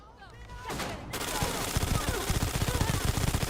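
Automatic gunfire from drum-magazine guns in the space game Starfield, quiet at first, then a loud, sustained rapid rattle of shots that builds and continues to the end, with faint game voices beneath.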